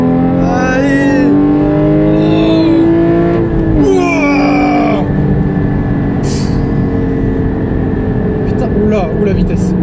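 A Porsche GT4 sports car engine revs and accelerates loudly from close by, its pitch sweeping up and down through the gear changes, while someone talks over it.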